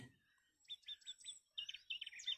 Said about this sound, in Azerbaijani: bir quş oradan bir nəğmə oxuyan zaman digər quş da ona neyniyir? Onun nəğməsinə gözəl şəkildə cavab verir.